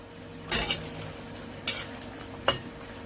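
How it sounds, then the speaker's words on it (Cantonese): A wok spatula stirring mushroom and zucchini soup in a pot, making three distinct scraping clatters spaced about a second apart over a quiet background. "用鑊鏟將佢兜勻"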